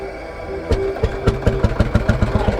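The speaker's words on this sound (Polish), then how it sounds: "No uwaga, proces uruchamiania." A vintage Ursus C-45 tractor engine cranks and fires at a vintage tractor rally in Mazovia, Poland, settling into a loud, heavy, rhythmic single-cylinder chugging that quickens steadily.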